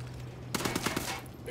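Weapon fire in Ghost Recon Wildlands: a quick burst of five or six rapid shots over steady background game ambience.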